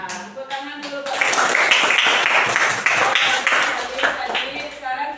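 Schoolchildren clap their hands together in a burst of quick, loud, overlapping claps at a school floor-exercise lesson, mixed with children's voices before and after.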